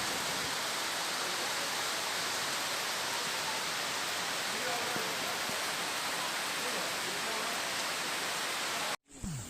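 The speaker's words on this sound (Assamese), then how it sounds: "চাওক পূৰা বৰষুণ দি আছে।" Heavy rain pours down outdoors near a riverside temple in Assam, a dense, unbroken hiss that holds steady throughout before cutting off abruptly near the end.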